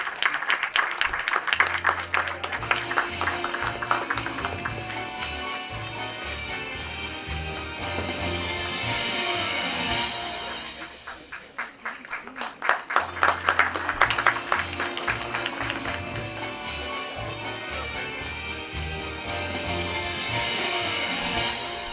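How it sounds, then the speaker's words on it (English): A crowd claps and cheers over loud, driving music at an IT awards ceremony; the applause dips briefly midway, then swells back up and continues. "Come on, a huge round of applause"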